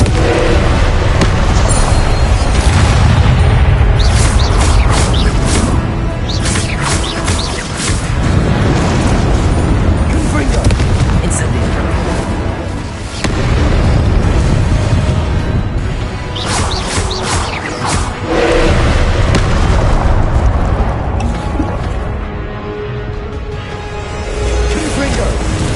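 Confringo blasting spells explode again and again in a Harry Potter video game played on PS4, loud booming bursts landing in quick clusters over a dense, noisy backdrop, with a voice speaking throughout.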